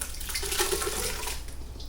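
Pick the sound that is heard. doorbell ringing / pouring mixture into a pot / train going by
pouring mixture into a pot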